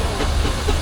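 Steam traction engine at a steam rally in the arena at Tinkers Park near Hadlow Down, Sussex, giving a steady, loud, broadband hiss with a low rumble underneath, continuous throughout with no pauses.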